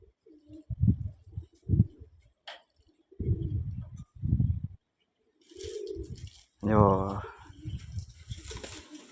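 A sick pigeon being tended and given water gives a few low, soft coos in short bursts, close by, mixed in with people talking nearby.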